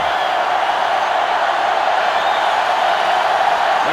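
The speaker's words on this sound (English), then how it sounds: "The crowd is really letting him hear it." A stadium crowd in the video game NCAA Football 2005 roars in a constant dense wash of jeering at an Ohio State versus Georgia game, loud and unbroken for the whole moment.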